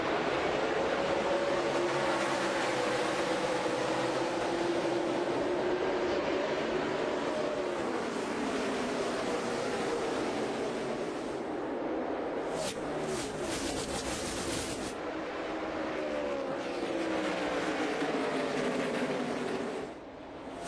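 NASCAR stock cars race at Indianapolis Motor Speedway after a restart in the 2017 Brickyard race, a loud, continuous, roaring engine drone with cars sweeping past and a brief burst of sharper noise near the end.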